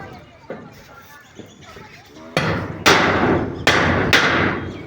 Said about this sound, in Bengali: দেখো কিরকম করে ফুটা করছি।